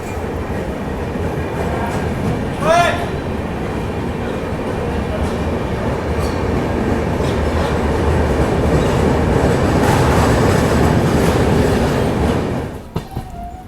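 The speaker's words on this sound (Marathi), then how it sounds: "तर या साईडला समोरून एक ट्रेन आहे" Ajmer–Agra Fort intercity train running on rails, with a loud continuous rumble and wheel noise heard from on board. A short squeal comes early, the sound builds steadily, and it then drops off sharply near the end.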